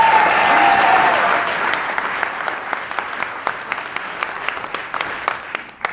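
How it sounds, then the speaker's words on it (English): A large audience of a few hundred people at a Virginia House of Delegates Democratic candidates' gathering applauds, a dense wash of clapping that starts loud and slowly thins into scattered individual claps. "So give yourselves a round of applause."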